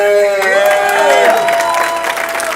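Audience applause for Guillaume Parent, the musical accompanist at an improv tournament, with a mix of clapping and cheering over held musical tones and a voice, fairly loud and steady throughout.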